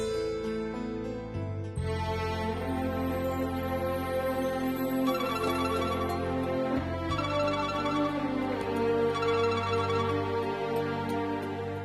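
A telephone ringtone at home in a Tamil TV serial, a loud, steady electronic melody repeating its tonal pattern without pause for about twelve seconds, with no voices over it.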